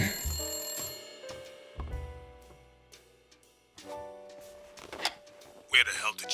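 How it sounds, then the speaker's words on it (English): A telephone bell rings repeatedly in the noir detective video game Blacksad: Under the Skin, mixed with background music and game sounds, with bursts of activity near the end. "Mind answering the phone?"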